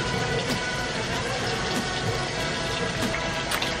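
Running water splashes and pours continuously at a bathroom sink while someone washes their face, a steady close gushing with small irregular splashes throughout.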